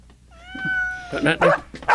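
A single clear, drawn-out cat meow close by, followed by a burst of talking.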